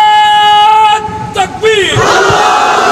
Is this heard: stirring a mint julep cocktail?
no